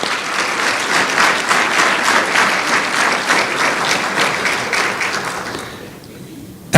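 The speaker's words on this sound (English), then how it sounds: "So please give our teachers of influence a round of applause." A banquet crowd at a scholarship dinner gives teachers a warm, sustained round of applause, a dense even wash of clapping that holds steady before tapering off near the end.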